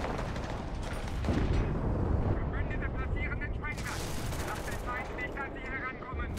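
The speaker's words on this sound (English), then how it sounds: "We have exploded a bomb." A bomb blast in the World War II shooter Enlisted, set at Berlin's Lehrter Bahnhof, with a heavy broadband burst and rumbling debris amid ongoing gunfire and battle noise, and a voice talking over the din.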